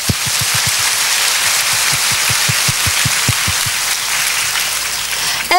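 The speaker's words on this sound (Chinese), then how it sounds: "在这里请容许我以热烈的掌声为大家作为鼓励。" Audience applause fills a lecture hall at the start of a Saturday evening talk, a dense, steady clatter of many hands clapping that holds evenly for several seconds.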